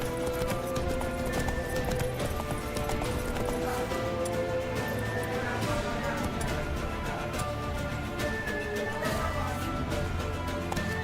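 Roach the horse galloping in The Witcher 3, a continuous run of close hoof clip-clops with occasional snorts, layered with background music.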